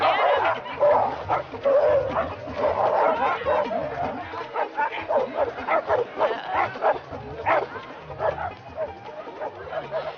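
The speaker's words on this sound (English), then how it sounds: "Get that dog on a rope or out of here." A dog barks and whimpers repeatedly, close and loud, in a chaotic scene with many people and dogs about, while voices talk over it.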